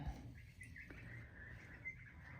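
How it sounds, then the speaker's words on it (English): Birds chirp faintly at a distance in a quiet village setting, with a few thin tweets over a soft low background hum. "Listen to the birds."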